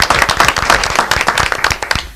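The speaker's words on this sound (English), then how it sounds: "it's not very often I get applause before I even say a few words" Applause at a school board meeting, loud close hand clapping from a small gathering, brisk and uneven, tapering off at the end.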